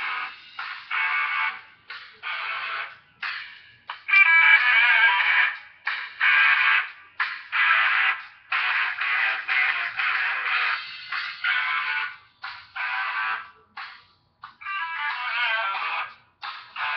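A song blasting at full volume from a small plastic cellphone speaker, thin and tinny, with music-only bursts broken by short gaps and no bass at all.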